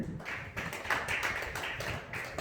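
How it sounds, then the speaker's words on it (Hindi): An audience claps at an OBC honours ceremony in Banswara. The clapping is a quiet, dense patter of many hands, steady and somewhat distant, with no voices over it. "ताली जरूर बजाएं।"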